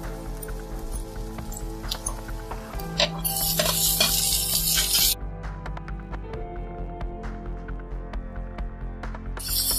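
Chopped onions frying in a pan for an egg khagina as tomatoes are tipped in: clattering utensils and stirring, then a loud burst of hissing for a couple of seconds before it settles back to pan noise.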